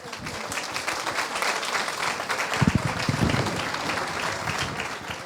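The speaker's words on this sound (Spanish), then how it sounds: "Lo recibimos con un fuerte aplauso." Steady applause from a lecture audience at a vegetarian and natural medicine festival, dense clapping that fills the whole stretch at an even, moderate level without speech.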